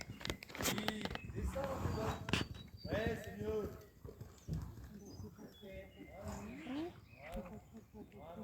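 A horse moves around a show-jumping arena, with hoofbeats and shuffling heard faintly under almost continuous speech.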